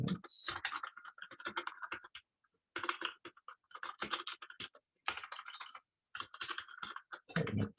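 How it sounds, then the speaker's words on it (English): Bursts of rapid clicking on a computer keyboard during a live coding talk on building static websites, clattering keystrokes in quick runs separated by short pauses, close and clear with no voice over them. "my typing is terrible apparently this evening"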